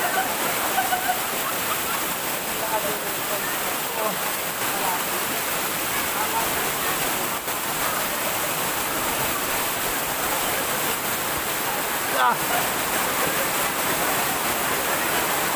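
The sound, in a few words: Talon Pari waterfall in Bulacan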